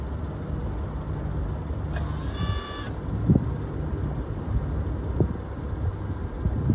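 A BMW car creeps forward and back under remote parking control, a steady low engine and tyre rumble with a short electronic chime over it and a couple of faint clicks.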